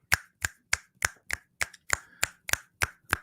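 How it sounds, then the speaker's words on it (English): Finger snaps ring out crisp and close, eleven sharp evenly spaced snaps at roughly a third of a second apart, alone with no talking. "Snap your fingers for me."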